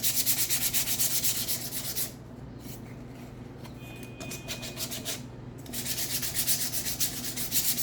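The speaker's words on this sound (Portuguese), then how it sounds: "Lixa de boa, sempre passa a mão, pra ver se tá maciozinho." Sandpaper worked by hand across an MDF board during paint prep, a steady close scratchy rubbing in even back-and-forth strokes that eases to a lighter, quieter pass midway before resuming.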